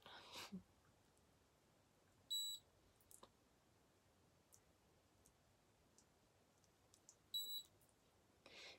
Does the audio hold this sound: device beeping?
yes